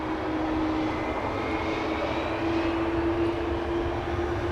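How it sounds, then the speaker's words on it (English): An Airbus A340 airliner climbs slowly after takeoff, its engines making a steady, loud roar with a sustained whining tone held throughout, alone with no voices. "It is proof that the A340 can levitate, although it's not getting very high. It's not climbing very fast"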